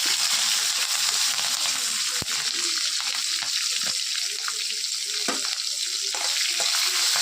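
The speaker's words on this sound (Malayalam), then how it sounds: "മുളകൊന്ന് മൂത്ത് വരുമ്പോൾ ഇതാ പച്ചമുളക് ഇടുക കേട്ടോ" Green chillies frying in a pan for a Kerala aval upma, a steady close sizzle with faint crackling and a few sharp pops scattered throughout.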